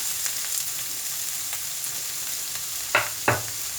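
Chopped large onion sizzling in a pan of hot oil with asafoetida while cooking palak spinach and tomato curry, a steady close frying hiss broken by two brief clanks of a spoon stirring near the end.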